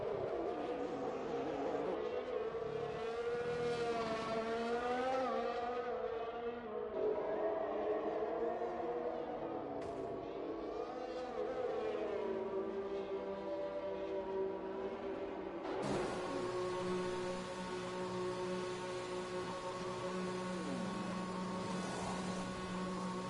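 Formula race cars in a racing game scream past one after another, their engine whines rising and falling in pitch, loud and continuous, with a new car's steady tone taking over partway through.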